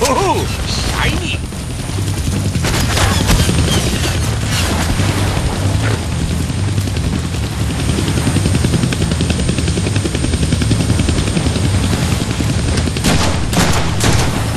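Continuous, loud gunfire rattles through a chaotic Deadpool video game firefight, with dense bursts, booming impacts and an underlying whirring, helicopter-like drone carrying on without a break.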